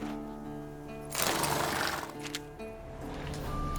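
A horse in the video game The Witcher 3: Wild Hunt, standing at a mountain camp, gives a brief snort or whinny burst over a steady droning musical score, fairly faint and without talk.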